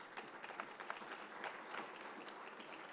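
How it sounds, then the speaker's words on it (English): Steady applause from a luncheon crowd at the Seaport Hotel in Boston, a continuous patter of many hands, fairly faint and even throughout. "A nice round of applause."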